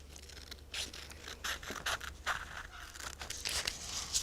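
Scissors snip through a sheet of folded paper being cut into a triangle, a quiet run of short crisp cuts and rustles spaced irregularly, with no one speaking.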